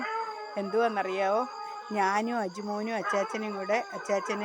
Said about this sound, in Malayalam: ഭയങ്കര പാട്ട് കേട്ടോ, കോഴികളെല്ലാം ഗാനാലാപനം നടത്തുവന്നേ.